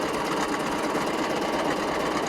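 A Jaguar 496 household sewing machine stitches knit fabric, running at a steady, continuous fast whir with no pauses, close and fairly loud throughout.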